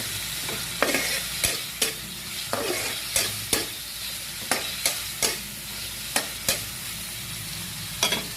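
Shrimp frying with tomatoes in a pan, a constant sizzle broken by a dozen sharp, evenly spaced clacks of a utensil against the pan.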